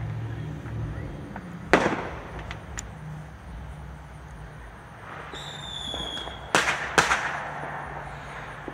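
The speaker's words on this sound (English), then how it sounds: "I'm trying to catch one of these firecrackers on my camera" Several sharp Fourth of July firecracker bangs go off at a distance, scattered across the clip, with a couple of quick pops clustered near the end over steady outdoor background noise.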